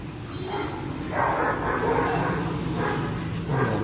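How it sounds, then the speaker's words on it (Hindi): A Dogo Argentino barks in several loud bursts, each a cluster of deep woofs with short pauses between, set against steady background noise. "ये डोगो अर्जेंटीनो की आवाज"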